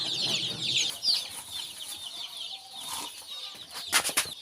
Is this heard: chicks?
yes